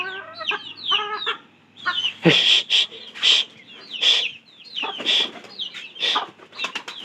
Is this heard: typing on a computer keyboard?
no